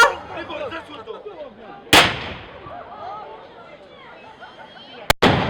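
Two loud, sharp gunshots about three seconds apart at an outdoor pirate show, standing out over a voice talking and crowd chatter.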